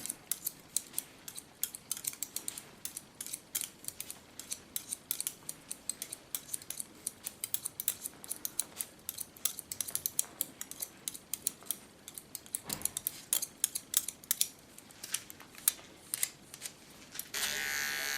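Coyote hair scissors snip steadily through hair during a bob haircut, giving a close, rapid series of crisp metallic cuts with brief pauses and no talking.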